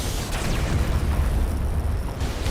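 Space battle explosions in the Battle Fleet Gothic Armada video game, a loud continuous roar of rumbling booms and crackling blasts layered over one another without a break.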